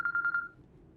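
A phone rings with a short bright electronic trill of four quick pulsed beeps, faint and close, followed by quiet room tone.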